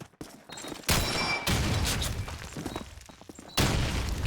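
Grenade blasts and bursts of rifle fire in the Call of Duty 2 video game, several sharp loud bangs separated by quieter gaps of scattered shots.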